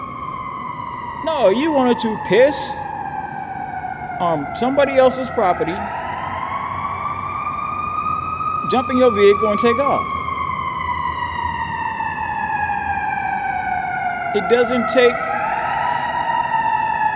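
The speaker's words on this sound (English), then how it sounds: "yes, that's a fire truck." Fire truck siren wailing through a city at night, rising and falling in long sweeps, loud and steady, while someone talks over it in short bursts.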